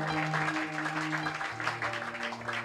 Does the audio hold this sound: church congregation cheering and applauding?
yes